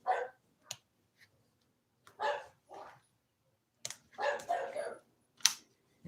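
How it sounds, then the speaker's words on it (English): A dog barks in short, sharp bursts, several separate barks with quiet gaps between, fairly close and loud. "hopefully you can't hear my dog going crazy, barking over here."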